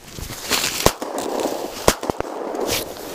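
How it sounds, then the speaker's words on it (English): Two sharp shotgun blasts fired during a pheasant hunt ring out outdoors, one near the one-second mark and another about a second later with a quick follow-up crack, over rustling field noise and no talk. "Nice shot, Bobby"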